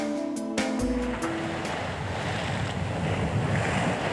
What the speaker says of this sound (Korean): 만조가 되자 바닷물이 넘실거린다